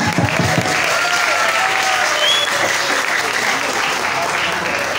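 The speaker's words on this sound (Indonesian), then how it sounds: "Tepuk tangan untuk kita semua." A school audience at an Indonesian high school event claps in loud, sustained applause that holds steady throughout, with faint voices mixed in.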